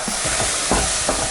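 Cauliflower rice with salt, coriander powder and garam masala being stirred in a pan, a quick mix heard as a few rhythmic scraping strokes over a continuous sizzle, close and moderately loud.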